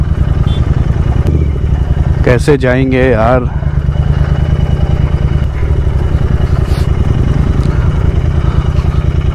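A Royal Enfield Continental GT 650 engine chugs in a steady low, loud idle on rough off-road ground near Pani Kot Lake, Gurgaon, with brief clatter, while someone speaks over it.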